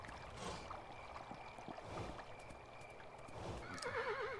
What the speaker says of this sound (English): I really like the horse noises.